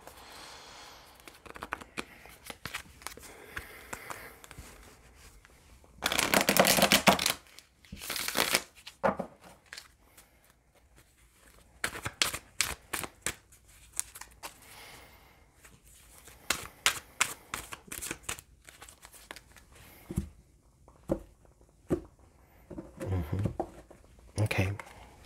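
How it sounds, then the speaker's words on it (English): Tarot cards being shuffled by hand in bursts of riffling and patter, with a long dense shuffle early on and shorter flurries after, close and fairly quiet with a voice talking between them. "Spirit says to shuffle once more."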